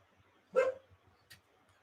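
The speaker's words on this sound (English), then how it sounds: "My dog is angry. Something's at the door." A single sharp dog bark at something at the door, quite close and alone, followed by a brief faint yip.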